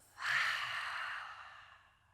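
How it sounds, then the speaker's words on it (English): A single long deep breath, drawn in through the nose and let out through the mouth, rises quickly into a soft, airy rush that fades gradually over about two seconds, close and alone. "Taking a few deep breaths."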